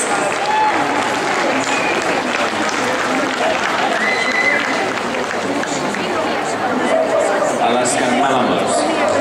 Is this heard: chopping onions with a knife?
no